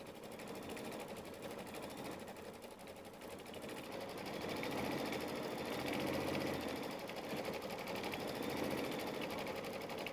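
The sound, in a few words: sewing machine stitching out a quilt block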